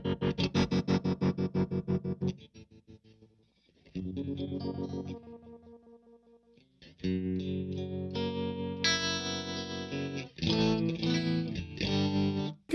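An electric guitar plays through two amps linked in a stereo effects loop, with a panning tremolo setting. Rapid rhythmic pulsing chords open the passage, then a pause, then sustained chords and notes ring out with a warbling modulated tone.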